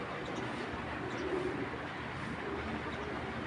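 A Bangladeshi pigeon of the Sokal Shondha breed coos softly under a low steady background hum, a faint, muted call with no talking.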